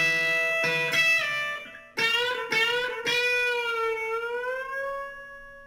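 An electric guitar picks a few notes, then a held note bends upward in two stages and wavers with vibrato as it sustains, loud and close, with no talking.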